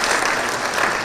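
Crowd at a political gathering clapping for a named legislator in a short, loud, continuous round of applause, close and full, with no speech over it.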